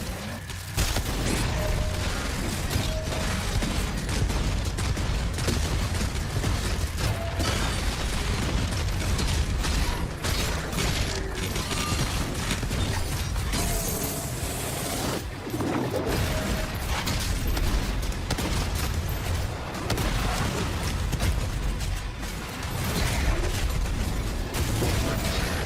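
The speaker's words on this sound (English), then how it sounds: "Rocket launcher." Rocket launcher fire in DOOM The Dark Ages, dense mechanical clanks and bursting explosions layered over a loud, continuous wash of game combat and music, with no talk.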